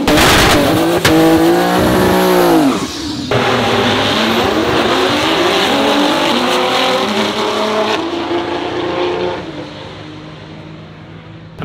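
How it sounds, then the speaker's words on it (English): Race cars make qualifying passes at the TX2K drag racing event, with loud engines revving and accelerating hard, a rising whine, then a roaring launch that fades as the car pulls away. "a lot of the cars are getting ready to do some qualifying passes"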